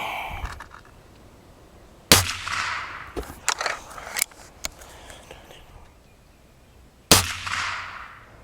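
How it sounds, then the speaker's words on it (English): A Gamo Hunter Extreme .177 air rifle fires RWS Hobby pellets in two sharp, loud cracks about five seconds apart, separated by quieter clicks and handling sounds in between. "we just shot the RWS Hobby pellets"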